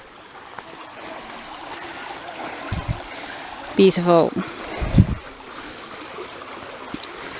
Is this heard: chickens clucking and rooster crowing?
no